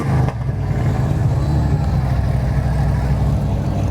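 A 1993 Nissan race car engine rumbles and revs loudly at a small-town parade, a steady deep low-pitched drone close by with a brief surge near the start, no talk over it.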